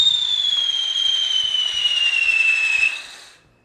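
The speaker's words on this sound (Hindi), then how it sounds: "तो गाइस चल पड़ी हमारी चक्री" A whistling chakri ground spinner firecracker lit for Diwali gives a loud, continuous high-pitched whistle with hissing that slowly drops in pitch and then dies away.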